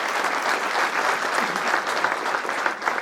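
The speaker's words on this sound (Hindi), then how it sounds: "चाहूंगी कि एक बार जोरदार तालियों से आपका अभिनंदन करें।" Loud, sustained applause from an audience at a closing ceremony for an exhibition on the three new criminal laws in Delhi, steady clapping throughout with no voices on top.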